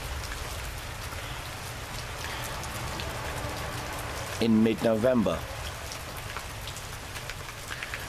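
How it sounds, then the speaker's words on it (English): Steady rain falls outside in mid-November, a constant close hiss of drops. Someone speaks briefly partway through. "it's raining."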